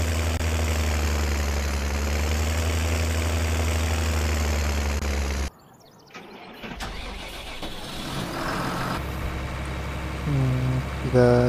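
A John Deere tractor in Farming Simulator 20 idles with a steady low engine drone, which cuts out abruptly midway before the running engine sound gradually returns, with some clatter.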